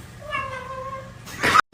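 A cat gives a drawn-out meow, a clear wavering cry that ends in a short, louder burst of noise, heard close up with no speech.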